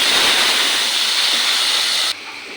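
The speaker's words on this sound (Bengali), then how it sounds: "আলুটা ভেজে নেবো।" Potatoes for a rohu (katla) fish dish frying in hot oil, a loud steady broadband sizzle that holds evenly and then drops abruptly to a quieter hiss near the end.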